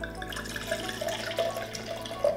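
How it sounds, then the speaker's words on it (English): Wine pours from a bottle into a blender cup, a quiet steady liquid trickle with a few small gurgles, heard alone and close. "I'm going to pour some in my blender cup as well."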